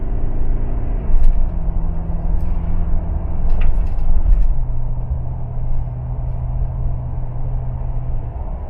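Diesel car with automatic transmission and tuned ECU accelerating on light to medium throttle, a steady low engine drone whose pitch drops at each upshift, heard from inside the cabin with road rumble underneath.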